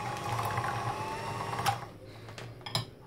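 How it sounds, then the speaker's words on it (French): Cheese is whisked for a banana cheesecake loaf with an electric mixer, a steady close whirring motor hum that cuts off partway, followed by a few faint clinks and scrapes. "je prends le fromage, je vais le fouetter un petit peu"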